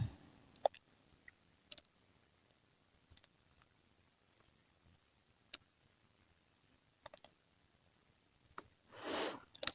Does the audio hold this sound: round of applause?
no